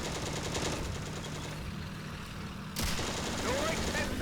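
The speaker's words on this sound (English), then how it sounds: "I heard some shooting and there's a half-track on fire." Distant battlefield gunfire in the tank simulator Steel Fury arrives as rapid bursts and rattling volleys under a low engine rumble, steady and moderately loud.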